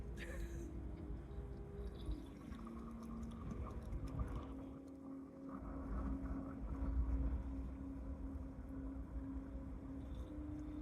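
Water pours and trickles from a watering can into a truck's water tank, a soft, steady wash with some spilling, over a low mechanical hum with no voices.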